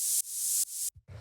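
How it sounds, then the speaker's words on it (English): White noise shaped by a tight envelope forms a percussion layer in a fast techno track, run through bandpass, high-pass and erosion effects: three loud hissing bursts in quick succession, then a brief low thump. "All this is it's just some white noise"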